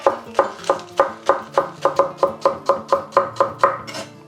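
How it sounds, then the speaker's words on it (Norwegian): Spring onion being chopped with a knife on a board, a steady run of about fourteen crisp, evenly spaced knife strikes, close and loud, with no voices. "Så skjærer jeg det bare ned."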